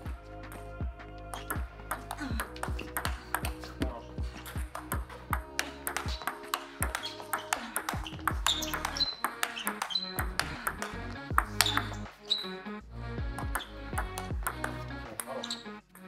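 A table tennis ball strikes a paddle faced with Tenergy rubber again and again in a quick, steady rally of bright, sharp pings, close and clear with no talk over them.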